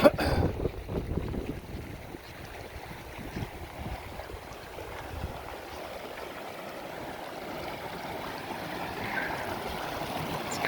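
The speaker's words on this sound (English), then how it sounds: "Little waterfalls thing." Small waterfalls and a flooding stream rush beside a backpacking trail near Notch Lake, a steady close water roar with some wind buffeting, and a sharper burst at the very start.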